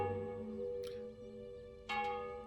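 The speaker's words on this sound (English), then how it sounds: "The bell." A bell rings with a long, resonant tone, struck again partway through, its sustained overtones hanging in a quiet space with no talking.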